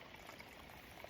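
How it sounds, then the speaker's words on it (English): A pipe spring on a cold, windy morning along a Virginia hiking trail, water running steadily from the pipe in a soft, continuous wash that stays fairly faint and even throughout, with no voices. "Got a pipe spring here."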